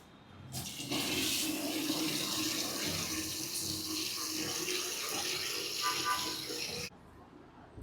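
Water runs steadily from a tap for several seconds over jamun fruit being washed, a continuous splashing rush that starts and stops abruptly.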